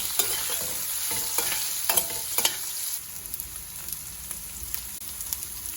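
Onions frying with curry leaves in a pan for a tomato cashew gravy curry, a steady sizzle with sharp clicks and scrapes of stirring, close and fairly loud, with no voices.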